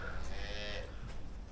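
Dairy cows in a barn with calves give a long, loud, close moo that fades into ongoing lowing and barn noise.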